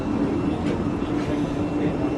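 Passenger train bound for Edinburgh Waverley running near Dumbarton, a continuous low rumble and rolling hum heard from inside the carriage, steady and moderately loud.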